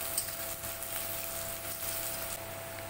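Chopped onion, cumin and dry chilli sizzle in hot oil with salt and crushed ginger-garlic, giving a steady, close frying hiss with faint crackles throughout and no talking.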